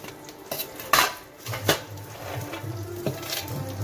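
Peanuts tipped into a pan for a coconut chutney, a few clattering knocks and scrapes of metal cookware, with a faint hum beneath.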